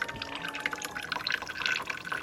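Thawed ice water drips and trickles inside a leaking LG refrigerator, a faint, continuous, close-up patter of small drops with no voices.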